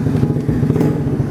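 An automatic scooter-style custom motorcycle engine runs close and loud with a steady, throbbing, slightly rattly idle that does not rev.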